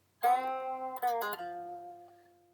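A short electric guitar phrase: a picked note followed by quick pull-offs down to lower notes, the last tone ringing out and fading.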